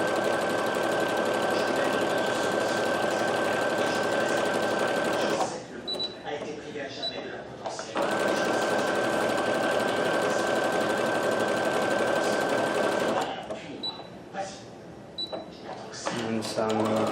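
A 2015 Brother LB6810 sewing and embroidery machine stitches fancy smocking patterns in steady, fast mechanical runs, pausing twice briefly, with a voice speaking in the gaps.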